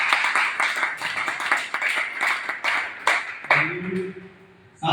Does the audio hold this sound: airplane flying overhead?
no